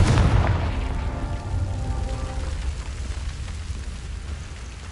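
A Confringo fire blast spell from the Hogwarts Legacy video game bursts in a loud, close boom at the start, then trails into a crackling, rumbling decay that fades over several seconds, with no voices.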